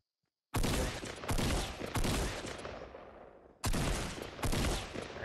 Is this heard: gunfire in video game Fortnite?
yes